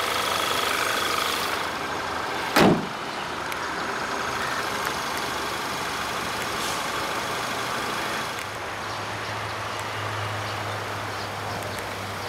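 A 2012 Volkswagen Tiguan 2.0 TSI 4MOTION idling just after start-up, a steady even engine hum throughout with one brief sharp click early on and a low droning tone emerging near the end, no talk.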